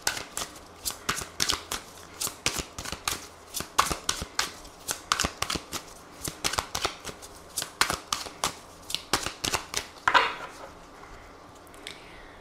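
Tarot cards being shuffled by hand, a steady run of crisp riffling slaps at an even pace for the whole stretch, close and clear with no talking.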